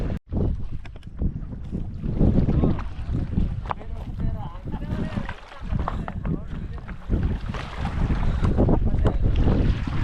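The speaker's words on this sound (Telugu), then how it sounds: "బోట్ వస్తుంది చూసారా మన బ్యాక్ సైడ్ బోట్ వస్తుంది కదా" A fishing boat's engine drones and grows nearer on the water in the Nallamala forest at Srisailam, under gusty wind buffeting the microphone, with a person talking over it throughout.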